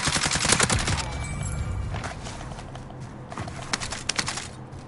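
Rapid automatic bursts from an AMAX SMG in a shooter game, loud and close, with dense rattling volleys at the start that thin into short scattered bursts later, under a constant game background.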